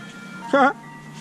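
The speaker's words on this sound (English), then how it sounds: "Oh, ice cream truck!" An ice cream truck jingle rings out in a short, bright melodic burst of about a fifth of a second, standing clearly above a faint steady background hum.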